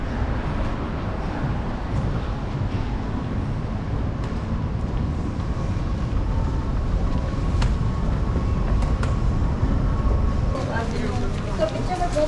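A busy Dubai metro station, Burjuman, with a constant low rumble of a train and station machinery, people talking in the background throughout.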